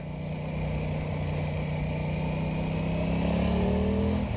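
An Aprilia Tuono 660 motorcycle engine note climbs steadily in pitch and grows slightly louder as the bike accelerates, heard close and continuous over wind noise without speech.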